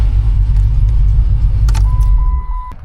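A Dodge Charger donor car's engine rumbles at idle and then cuts off, leaving a jingle of keys and a steady electronic chime ringing briefly afterward, close and loud.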